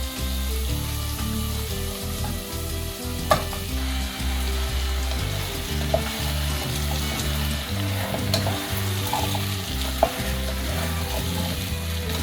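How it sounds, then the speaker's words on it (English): Pumpkin pieces sizzle and fry steadily in a soup pot while a spoon stirs them through, with occasional knocks of the utensil against the pot and a continuous close frying hiss throughout. "So just mixing it in, let everything get nice and coated."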